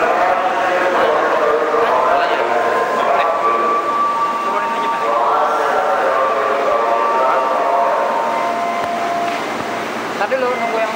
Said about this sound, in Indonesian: Mundur, Ken. Kereta datang.